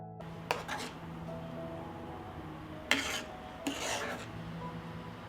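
Skimming foam off boiling strawberry juice in a pot brings a few scattered scraping and rasping contacts of a utensil against the pot, separated by quiet stretches over a low steady hum.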